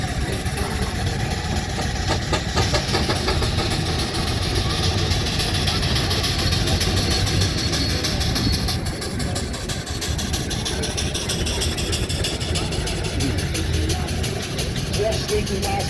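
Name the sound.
engine running at rally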